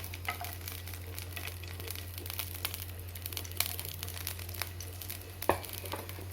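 Red chilies, tamarind and garlic pods fry in oil for a chutney, giving a steady soft sizzle with scattered crackles and one sharper pop near the end, over a low constant hum.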